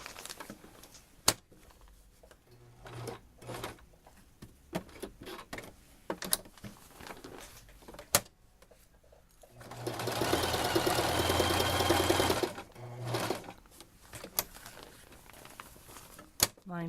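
A sewing machine stitches a baby changing mat in a loud, steady burst lasting a couple of seconds, with quieter handling, fabric rustle and short motor bursts before and after.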